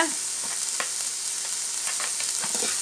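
Peanut sundal with tomato, carrot and coconut being stirred in a pan: a continuous bright sizzle with light spoon scrapes scattered across it, close and fairly loud, no voices.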